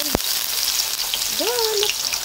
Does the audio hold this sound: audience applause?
no